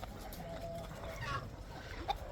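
Hens cluck softly and intermittently in a poultry shed amid a low, steady background hum, with a few sharper squawks near the end.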